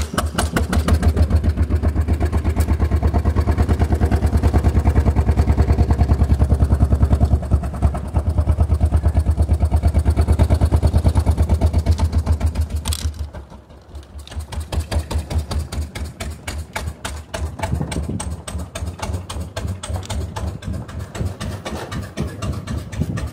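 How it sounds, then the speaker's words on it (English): A single-cylinder engine on a 1906 Sizaire-Naudin voiturette chugs steadily as it drives, loud and close, with the beat fading briefly midway and then resuming as rapid distinct pulses. "we will count the chugs of the single cylinder and we'll see how fast we go"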